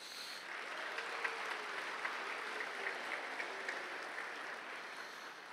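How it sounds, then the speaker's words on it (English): A high school commencement audience applauds, a broad, even wash of clapping heard from a distance and fairly quiet, sustained without a break. "So give yourselves a round of applause."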